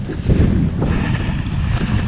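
Loud, gusty wind buffets the microphone at an exposed outdoor viewpoint during a UK e-bike ride, making a rough, close roar throughout with no talking.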